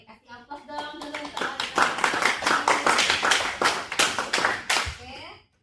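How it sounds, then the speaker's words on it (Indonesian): A classroom of students claps for a pupil: a burst of quick, dense applause that swells and then fades, with a teacher's voice at the start and children's voices mixed in. "kasih aplaus dong dulu"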